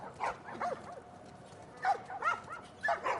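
Dogs in The Last of Us Part 1 bark and whimper in several short bursts, fairly close and clear, with quiet pauses between the calls.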